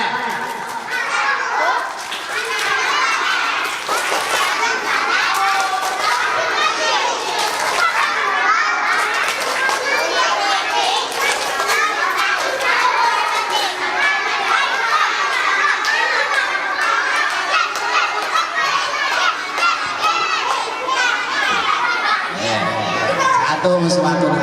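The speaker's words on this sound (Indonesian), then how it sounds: "Coba ulang lagi, tepuk anak soleh." A group of children at a Quran school's Maulid Nabi celebration chant and clap together in the tepuk anak soleh routine, a loud, steady mass of young voices that runs throughout.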